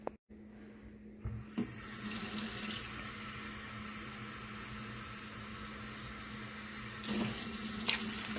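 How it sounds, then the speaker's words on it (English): After a brief quiet start, water runs steadily into a pressure cooker, a continuous hollow splashing stream with a couple of small clunks. "And I'm also going to be adding 2 cups of water."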